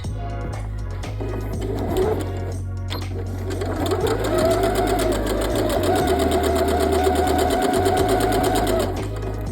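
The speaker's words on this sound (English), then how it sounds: "drop down your needle. Again, we're gonna stitch and back stitch" A sewing machine stitches and back stitches a seam on a denim dress, making a loud, close, rapid mechanical whir that runs steadily after a few short stops and starts at the beginning.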